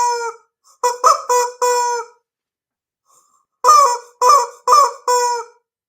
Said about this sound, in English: I love the people who do music with the rubber chickens.